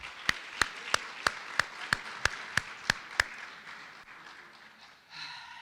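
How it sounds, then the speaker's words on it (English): At a high school varsity athletic awards ceremony, about ten crisp, evenly spaced claps ring out in a slow steady beat, then give way to faint room noise and a soft rustle. "So a round of applause for those that came before us and aren't here."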